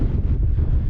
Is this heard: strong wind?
yes